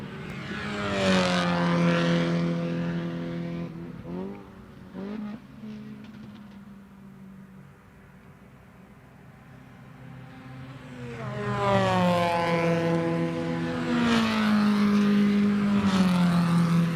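Race cars at Lime Rock Park during a Miatacon race day roar past the pits, engine notes rising as they approach, fading into a distant drone, then a second loud pass sweeping by up close.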